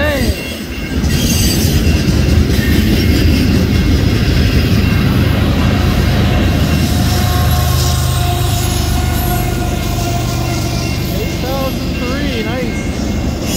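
A Norfolk Southern freight train rolls past in Rockwood with an SD40-2 high-hood locomotive trailing, giving a loud, close, sustained rumble of wheels and cars with some squeal, while wind noise and brief voices sit underneath.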